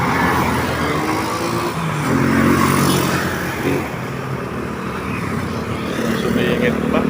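Busy road traffic with cars and motorbikes rumbling past at close range, a steady engine drone swelling briefly as vehicles move by, with a voice talking over it.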